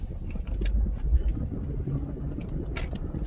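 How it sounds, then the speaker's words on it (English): A nearby car engine labors with a low, rough rumble and uneven surges, alongside scattered clicks and knocks, fairly quiet overall. "Jesus, that poor car."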